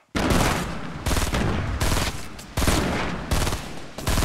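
Loud, close bursts of gunfire in Fortnite, several sustained volleys separated by brief pauses, each a dense rattle of rapid shots with no talk over it.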